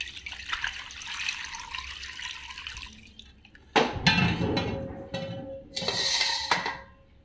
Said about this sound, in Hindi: अभी इसको क्लीन करने के लिए हम इसमें पानी डालेंगे।